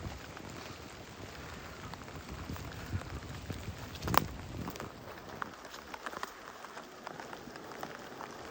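Rain falling on a path near Hemja, Pokhara, heard as a soft, steady patter of drops with faint scattered taps and one brief louder knock midway, fairly quiet and without talk.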